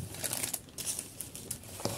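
A painting canvas is pulled out of a small thin plastic bag, producing close, continuous crinkling and rustling with a few sharper crackles, no talking.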